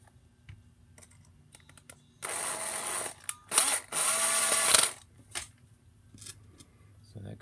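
A Makita power screwdriver drives screws into a guitar pedal case in two bursts of steady high whirring, the first about a second long, then a short rev and a longer run, close and loud in a quiet room.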